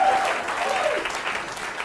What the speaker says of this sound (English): Oh, come on, a little more applause than that when I'm coming up.